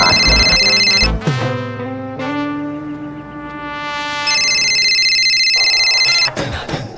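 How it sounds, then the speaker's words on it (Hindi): A mobile phone rings with a loud, repeating electronic melodic ringtone, two bursts of the tune separated by a sustained tone, close by with no talking. "फोन आ गया।"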